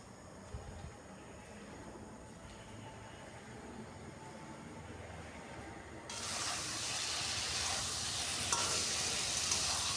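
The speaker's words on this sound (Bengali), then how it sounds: "এবার তেল আর পোস্ত দিয়ে আরও কিছুক্ষণ এটাকে আমি কষিয়ে নিচ্ছি।" Poppy seed paste with ridge gourd frying in plenty of oil, a soft sizzle that swells to a louder, steady hiss partway through, with no voices.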